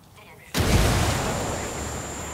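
Frag grenade explosion in the video game Ghost Recon Wildlands, a sudden loud, broad blast after a quiet moment, then a long rumbling wash of noise that slowly fades.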